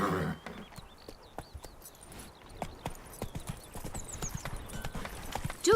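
Roach, the horse in The Witcher 3 video game, walks with rhythmic clip-clopping hooves, steady and fairly close, alongside faint birdsong and ambient game sound.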